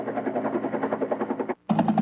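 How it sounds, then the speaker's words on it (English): Rescue helicopters over a flooded Los Angeles riverbank during the February 1992 storm, a loud, close rotor chop pulsing in rapid steady rhythm, briefly cutting out before resuming. "Helicopters rescued some of them."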